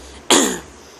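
A single short cough or throat-clearing burst at close range, loud and abrupt, then quiet room tone with no talk.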